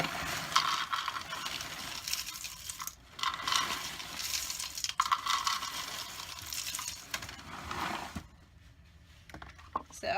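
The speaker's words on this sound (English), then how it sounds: "So now I'm just going to go ahead and mix in the Chex Mix" Chex Mix cereal pouring and being stirred in a bowl while making puppy chow, a steady dry rattling and crunching rustle that runs for several seconds, pauses briefly and then resumes more quietly.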